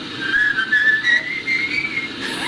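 A man's steady, wavering whistle carries a thin melody for the whole stretch on an old 1989 tape recording, fairly close, over faint room noise.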